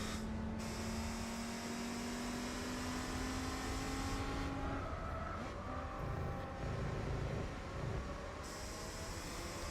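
A race car engine in Gran Turismo 4 drones steadily while accelerating, a continuous whine with shifting pitch and constant loudness, alone without talk.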